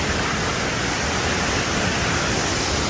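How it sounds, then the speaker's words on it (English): A waterfall flowing strongly, producing a steady, dense broadband roar that fills the whole clip without a break, close and loud. "it's really flowing, the waterfall now."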